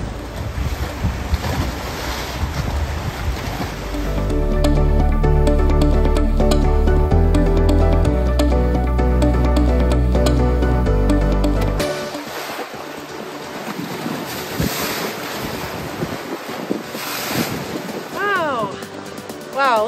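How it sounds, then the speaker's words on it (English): Ocean waves roll in at Meyers Beach in the Apostle Islands on a foggy, windy day, a broad steady wash of surf with gusts of wind noise over the microphone and some low rumble. "Look at those waves."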